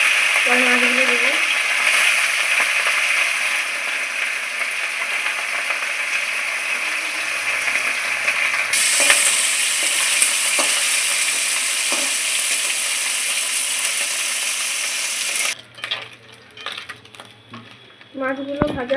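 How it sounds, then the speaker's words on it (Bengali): Small chuno fish frying in hot oil, a steady broadband sizzle that runs loud and continuous for most of the clip, then drops away near the end as the pan goes quieter with faint clinks. "মাছগুলো ভাজা হয়ে গেছে,"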